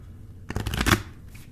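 Tarot cards being shuffled and drawn during a full moon reading: a dense riffling burst of papery flicks lasting about half a second, close and fairly loud, then quieting.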